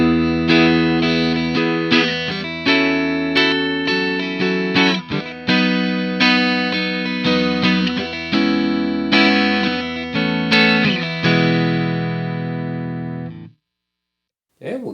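Ibanez S561 electric guitar on its neck single-coil pickup through a lightly driven Line 6 Marshall Plexi model, playing loud strummed chords and picked notes that ring steadily, then stop abruptly near the end.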